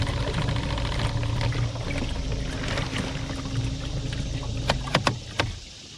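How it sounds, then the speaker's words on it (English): A boat pushed by a trolling motor gives a steady low motor hum and water churn throughout, with a few sharp knocks and clunks near the end. "vibration in the trolling motor"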